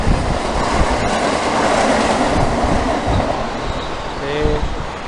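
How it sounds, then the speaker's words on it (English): A train passing along a rail line in hilly countryside, a loud steady rumble with clacking wheels that holds throughout and ends in a brief squeal. "there's a train going by"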